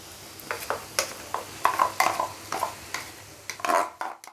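Moong dal and spices, including mango powder, are stirred in a pan. Uneven scrapes and clinks of a spoon against metal come in short bursts over a soft sizzle, close by and without any voice.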